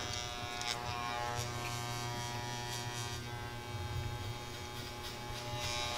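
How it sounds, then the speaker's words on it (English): Electric hair clippers buzz steadily at close range during barbershop side-part haircut work, with a continuous motor drone and slight shifts as they cut hair. "cornering it and chipping away at any little imperfections I see before I break out the shears. Just want to make sure all my clipper work is done."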